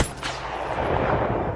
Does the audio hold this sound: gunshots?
yes